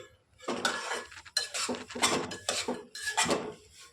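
Semolina being dry-roasted for a jaggery sheera, stirred briskly with a spoon that scrapes and clatters against the pan in repeated close, loud strokes separated by short pauses.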